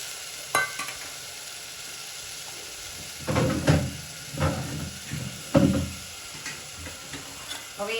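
Kadhi tempering for a Kathiyawadi kadhi khichdi sizzles in a hot pan, with a few louder bursts of frying and stirring clatter as buttermilk goes in, over a steady background hiss.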